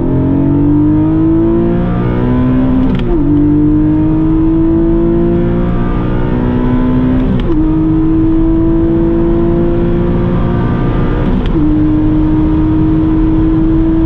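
Sports car engine revving hard through a 100–200 km/h acceleration run, a loud continuous drone rising in pitch with three brief upshift dips, heard alone without talk.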